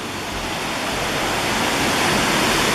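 Linville Falls waterfall in the Blue Ridge Parkway gorge roars with steady, loud rushing water, a dense broadband wash that holds constant and swells slightly throughout, with no voices heard.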